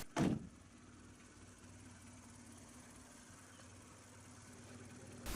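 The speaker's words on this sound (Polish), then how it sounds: "Teraz odpaliłem silnik, otwieram maskę" Mazda 6 (2013) with a 2.0-litre four-cylinder petrol engine idling steadily at low volume, opening with a sharp thump near the start and another clunk at the very end as the hood is handled.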